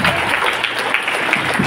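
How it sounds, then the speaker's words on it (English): Audience applause for a guest of honour at a school welcome ceremony, a steady wash of many hands clapping that runs through the whole short stretch at even loudness, with a voice faintly under it. "Let's give a big round of applause to ma'am here"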